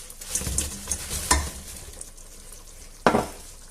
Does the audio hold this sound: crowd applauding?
no